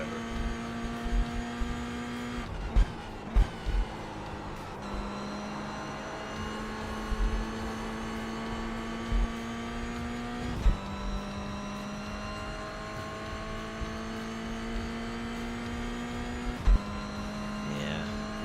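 Race car engines whine steadily in the iRacing sim during a multiclass race, a sustained tonal drone rising and falling with shifts, with occasional thumps and bumps over the constant engine note.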